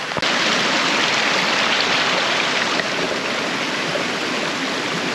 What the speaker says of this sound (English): I'm currently standing in a waterfall